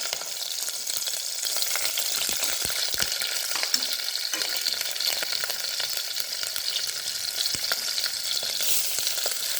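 Vegetable biryani ingredients fry with green chillies in a pan, giving a steady bright sizzle with frequent clicks and scrapes of a spoon stirring, close and continuous without talk.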